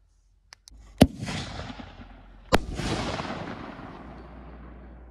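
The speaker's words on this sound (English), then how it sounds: "Our first is going to be a green to red glitter willow." Black Diamond green-to-red glitter willow firework shell: a sharp launch thump followed by a louder burst, then a long crackling glitter fizz that slowly fades, heard outdoors from moderate distance.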